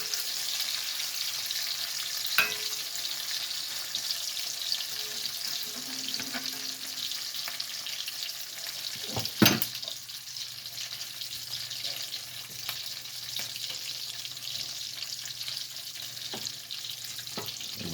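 Black-eyed peas fry in lard and bacon grease in a pan with a steady, close hiss and crackle, broken now and then by a scrape or stir of a large spatula.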